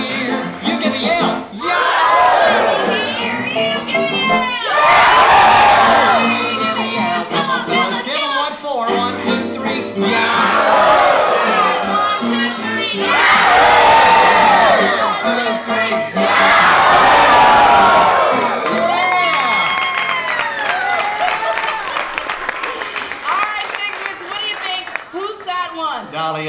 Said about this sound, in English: Let me hear you give a yell.